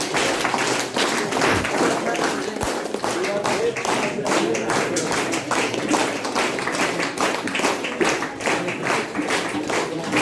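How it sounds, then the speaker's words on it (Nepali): An audience at an honouring ceremony for a temple consecration claps loudly and continuously for ten seconds, a dense crowd of hand claps with a few thumps beneath. "जोरदार ताली बजाइदिइराख्नु होला"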